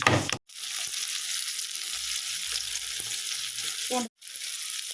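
Onion, tomato and crushed garlic sautéing in a pan for a green gram dal dish, a steady loud sizzle with brief stirring knocks, cut off by two short silent gaps.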